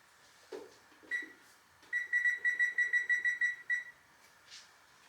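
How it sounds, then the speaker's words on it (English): Oven timer in a home kitchen being set: a few single beeps from button presses, then a fast run of about nine electronic beeps, then one more faint beep, close and clear. "I'm going to set the timer for 10 minutes."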